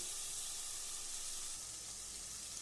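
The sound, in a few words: frying chicken and vegetables in a pan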